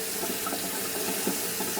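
Water added for mixing squirrel formula makes a steady, continuous close pouring rush, like a tap filling a container, lasting the whole moment with no speech over it.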